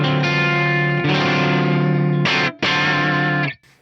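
Electric guitar with mini humbuckers strums complex chords through a distorted, effected tone, loud and close, in a few sustained strikes with a brief gap before the last chord rings out and stops.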